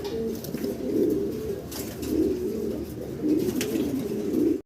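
Big-size fancy pigeons, including Roman gall birds, coo in repeated soft, throaty rolling phrases, close and moderately loud, with faint background rustle and no talk.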